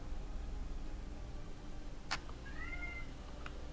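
A pet cat gives a single short meow, faint and in the distance, against a steady background hum.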